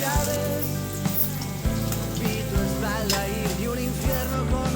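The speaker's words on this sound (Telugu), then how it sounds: "ఇది లైట్ గోల్డెన్ కలర్లో వచ్చేదాకా ఫ్రై అయితే చేసుకోవాలి" Paneer cubes fry in oil in a pan with a continuous bright sizzle and crackle, over a low steady hum, with a few faint clinks.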